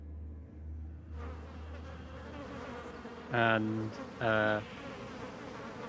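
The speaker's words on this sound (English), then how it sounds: "You just hear the swarm sort of erupt from it." A swarm of bees erupts in a sudden buzzing burst, two loud, close droning swells with a tonal, harmonic whine, separated by a short gap over a quiet, low background; a single brief spoken word comes just before.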